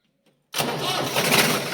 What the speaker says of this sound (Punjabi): ਕਰਦੇ ਆ ਟਰੈਕਟਰ ਸਟਾਰਟ ਕੋਲਡ ਸਟਾਰਟ ਜਿਹਨੂੰ ਕਹਿੰਦੇ ਆ